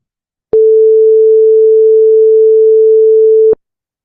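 A single steady pure tone holds at constant pitch and loudness for about three seconds, starting and stopping abruptly with faint clicks.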